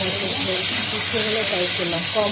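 Potatoes frying in hot oil for an old-style Bengali koi fish curry, a steady close sizzle and hiss running throughout with a faint voice underneath.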